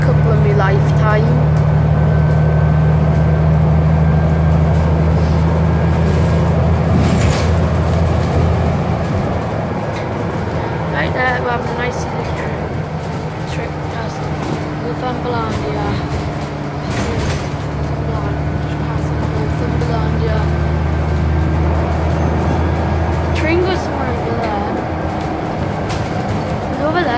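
Arriva Northumbria bus 7552 with an Omnidec body runs loud and close, a steady low engine drone with whining tones and rattles persisting throughout, while voices talk faintly over it.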